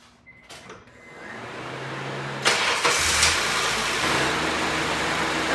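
A car engine cranks and fires up on its first start after a belt replacement, then settles into a steady, close idle with no talking.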